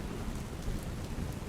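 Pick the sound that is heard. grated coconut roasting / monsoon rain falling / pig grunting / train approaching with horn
monsoon rain falling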